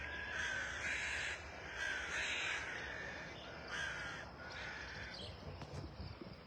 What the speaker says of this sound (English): There are a bunch of crows up here on this tree as well.